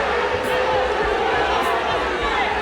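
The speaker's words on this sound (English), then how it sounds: "Crowd beginning to get restless." A restless boxing crowd at a Mike Tyson fight against Jesse Ferguson, a steady broad arena murmur and roar filling the space under a commentator's voice.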